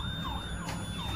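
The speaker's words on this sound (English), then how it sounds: "Yeah, the sirens in the background." An emergency siren wails continuously in the background, its pitch sweeping up and down over a steady roar of traffic noise during mass looting in Minneapolis.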